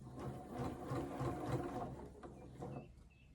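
A sewing machine stitches knit fabric for a bodycon dress, producing a steady, quiet, rapid mechanical whirr of needle strokes that slows and trails off near the end, with no voices.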